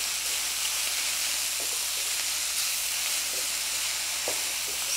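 Vegetables sizzle in hot oil in a pan with a steady, dense hiss, broken by a few faint stirring taps, close up and with no voices.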